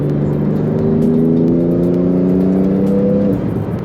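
A 2018 Porsche GT2 RS pulls hard in fifth gear, its engine note climbing steadily in rising harmonic tones for several seconds, loud and continuous with no talk, then easing off near the end.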